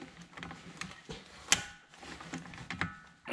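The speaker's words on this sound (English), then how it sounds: "I'm just going to go and torque these down." Torque wrench tightening brake caliper bolts, heard as close, uneven ratcheting clicks and mechanical ticks with a sharper snap partway through, fairly quiet with no talking.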